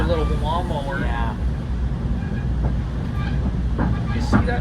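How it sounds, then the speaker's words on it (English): A GO commuter train passes near Newmarket, Toronto, a steady rumbling roar with faint rail clatter while people talk over it. "You see that train that went by"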